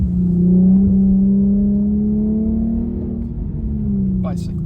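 Infiniti Q50 engine note from inside the car, a sustained rising rev after a paddle-shift downshift into a tight corner, steady and fairly loud with a brief higher sound near the end.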